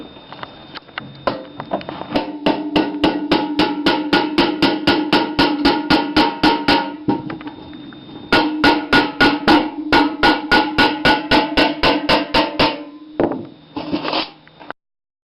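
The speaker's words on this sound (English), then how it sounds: "with my right hand I'm going to go ahead and hammer that rivet flat." A hammer flattens a copper rivet on a boiler in a fast, even series of sharp metallic strikes. Short pauses split the strikes into several runs, and there is no talk.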